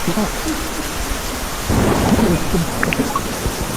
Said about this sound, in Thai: เสียงฟ้าร้อง